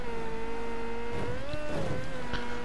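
A car engine in the video game Mafia 3 hums steadily as the car speeds through the city of New Bordeaux, a continuous drone that rises slightly in pitch, with a few brief knocks and clatters.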